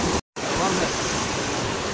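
A stream in Ratnagiri, Konkan, pours past under strong pressure in a dense, continuous roar of rushing water, close and loud, cut by a very brief dropout near the start; no voices are heard.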